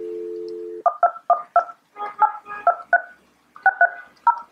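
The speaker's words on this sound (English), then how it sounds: "And it begins to dial." A Polycom desk phone gives a steady dial tone, then a rapid run of keypad dialing tones in short beeping groups with brief gaps, close and clear with no voices.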